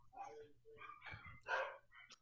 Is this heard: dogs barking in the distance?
yes